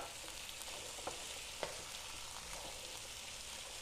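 Boiled chickpeas go into a hot pan for chana masala and are stirred, giving a steady soft frying sizzle with a couple of faint clicks of the spoon, no voices.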